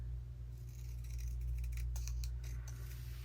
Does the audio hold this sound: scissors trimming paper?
yes